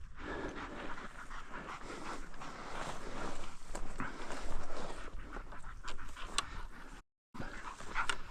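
A hunting dog pants steadily and close by for several seconds, with quick rhythmic breaths over outdoor background noise and a brief silent break near the end.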